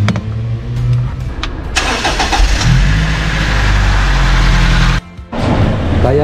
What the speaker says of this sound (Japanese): エンジンかけていきます。